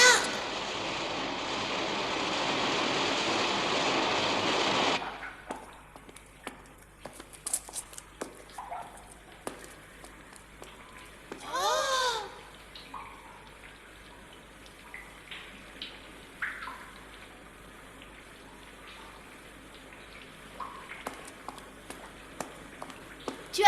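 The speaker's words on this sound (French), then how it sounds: "J'entends le grondement du torrent s'amplifie." A roaring mountain torrent echoes inside a cave, a loud steady rush of water for the first few seconds, then it cuts off. Fainter splashes, drips and patter follow alongside brief vocal sounds.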